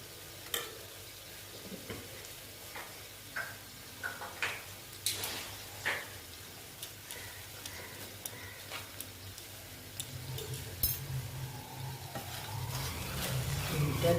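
Ghee sizzling in a hot pan while being stirred, soft frying crackle with repeated light clicks and scrapes of a spoon against the pan, close and fairly quiet, growing a little louder toward the end.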